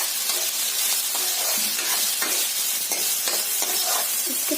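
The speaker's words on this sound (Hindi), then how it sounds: "अब हम इसमें शिमला मिर्च डालेंगे। इसे भी अच्छे से भून लेंगे।" Chopped capsicum sizzles and fries loudly in a pan while being stirred, a steady close hiss with scraping strokes from the spatula throughout.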